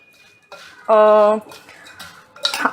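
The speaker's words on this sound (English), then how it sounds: "we'll take a spoon and mix up all of this" A spoon clinks and scrapes against a bowl while mixing puri chaat ingredients, with a brief ringing tone and scattered taps, close and moderately loud.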